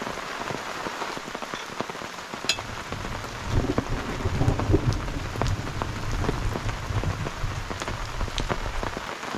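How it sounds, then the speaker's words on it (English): Steady rain patters on surfaces around a campsite build, with scattered close drips and taps over a constant hiss and a low distant rumble, no voices. "The rain's letting up."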